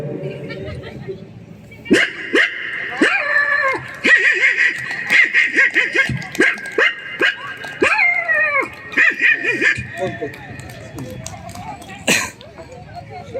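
A stand-up comedian at a fair mimics a puppy with a series of short, high yips and whimpering barks, repeated in quick bursts with a cough-like sound near the end.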